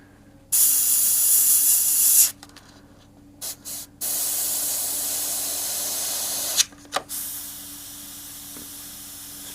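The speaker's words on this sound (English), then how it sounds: "The compressor kicked in." An air compressor runs as a loud, steady hiss that cuts out after about two seconds, returns around four seconds and keeps going near the microphone, with short bursts between and no talk.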